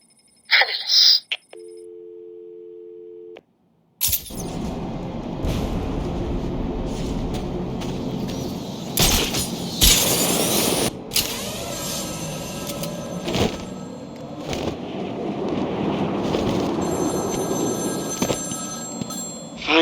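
A telephone rings briefly in the Batman: Return to Arkham City video game, a short electronic tone near the start, followed by a loud busy mix of game sound and noise.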